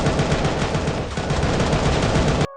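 Sustained automatic gunfire from the anime-style squad shooting game Angel Squad, a loud continuous rapid rattle of shots that cuts off abruptly at the end.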